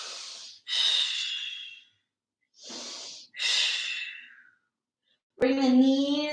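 Deep, slow breaths during a yoga back bend: two long inhale-exhale cycles, close and clear in a quiet room, followed by a brief voice.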